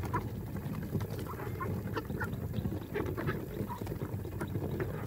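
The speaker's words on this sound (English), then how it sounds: "they're getting big. There's some big ducks." Big ducks quack in a noisy outdoor scene, with repeated short nasal calls scattered over a dense, rumbling background throughout.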